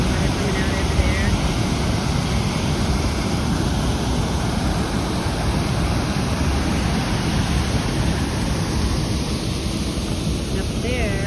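Water pours out at an old dam with aging metalwork beside a creek trail, a steady, loud broadband rush running unbroken throughout, with some wind buffeting the microphone.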